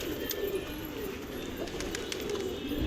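Pigeons cooing softly at a distance in the morning, repeated low coos over a steady outdoor background hiss.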